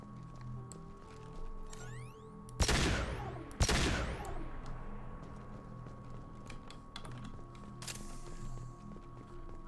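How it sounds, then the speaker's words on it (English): Two heavy gunshot blasts from a weapon in the video game Mass Effect 2, a second apart and loud, each trailing off, with quieter game ambience and faint clicking before and after. "I do enjoy firing this gun."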